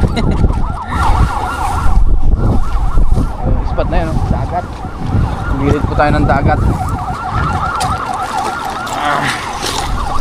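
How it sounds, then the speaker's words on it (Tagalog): An expressway siren wails, rising and falling repeatedly, fairly close, over road traffic while people talk nearby. "Nandiyan na yung wangwang. Wangwang ng expressway."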